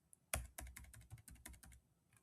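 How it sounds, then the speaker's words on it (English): Computer keyboard keys on a PC tapped in a quick irregular burst of about a dozen crisp clicks, one sharper strike near the start, close up and alone with no talk. "So if I go onto my keyboard, Ctrl C,"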